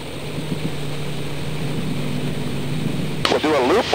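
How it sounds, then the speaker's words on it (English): An aerobatic airplane's propeller engine drones steadily during a roll, a close, even buzzing hum. A voice cuts in briefly near the end. "I'm gonna loop the airplane at the top."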